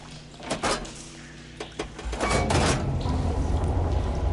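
Water flow switching through machinery in Horizon Zero Dawn: a few short mechanical clunks give way to a loud, steady rushing and churning of water that keeps on to the end, with no talking.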